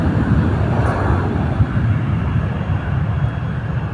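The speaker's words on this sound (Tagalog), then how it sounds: "jet na lumilipad." A jet aircraft flying over an airport ramp aircraft parking area, a loud, steady broadband roar that fills the whole stretch with little change, dominating the surroundings.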